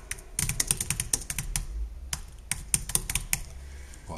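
Fast, uneven typing on a computer keyboard while laying out a text block in InDesign, a close run of crisp key clicks and clacks with short pauses, alone without talk.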